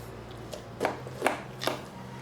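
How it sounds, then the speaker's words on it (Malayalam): A knife scores deep cuts into raw chicken being prepared for homemade alfaham without a grill or oven, giving three short, close slicing strokes evenly spaced over a quiet background. "എല്ലാ ഭാഗവും ഒന്ന് നന്നായിട്ടൊന്ന് വരഞ്ഞെടുക്കാം."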